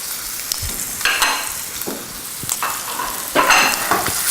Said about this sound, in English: just enough to get a nice sizzle going on, and just let these guys brown